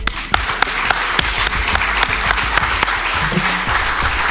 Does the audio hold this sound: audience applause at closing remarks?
yes